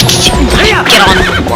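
A horse in a video game lets out a loud, close whinny with a rising and falling pitch, alongside light hoof clip-clops.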